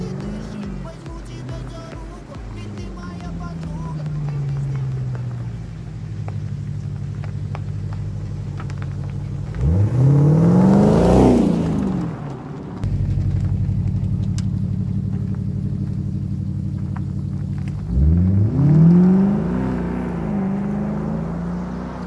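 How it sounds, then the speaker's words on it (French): A Volkswagen Phaeton on a road test, heard from on board: a steady exhaust rumble rises in two strong revving surges and then settles back to a low drone, with no talking. "Je sais pas si on a bien entendu l'échappement"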